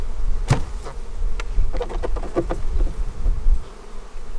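Honeybees buzzing around a freshly installed beehive in a bee yard, a steady close drone with sharp flickers as individual bees pass near, and a couple of light knocks.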